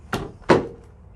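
Rear barn door of a long-wheelbase Ford Transit Custom Limited DCiV van latching into its 90-degree locked position, two sharp metallic clunks about a third of a second apart, close and loud, with no talk.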